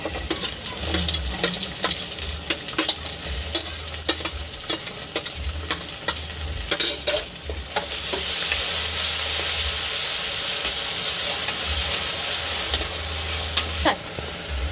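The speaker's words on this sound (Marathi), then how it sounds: "तर मंडळी, आता आपला कांदा आणि टॅमॅटो बऱ्यापैकी आपण परतून घेतलाय" Onion and tomato with curry leaves sautéing in a pan, a dense close sizzle with repeated sharp scrapes and clinks of a spatula, then a broader steady hiss of frying for the rest.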